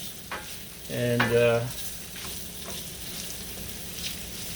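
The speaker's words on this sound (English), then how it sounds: "We both like getting that char, the sear on the sausage." Sausage searing in an enameled cast iron skillet, a quiet low sizzle under the room with a brief louder scrape of a utensil stirring near the start and a single short spoken word.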